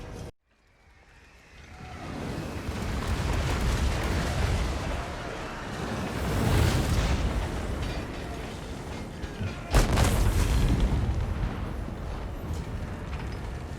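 Hellstorm rocket batteries firing in Total War: Warhammer 2, a sustained rumbling barrage of rockets with dense roaring blasts that swell and fade, a sharp loud burst near the end, heard without voices.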